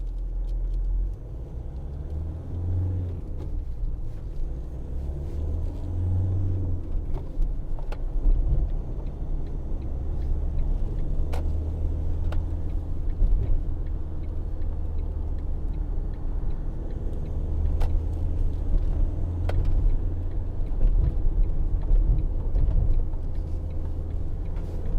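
A 2012 Ford Transit 2.2 TDCi 260 medium-roof van drives along the road, its steady low engine drone and road rumble carrying throughout with faint ticks and rattles from inside the cab.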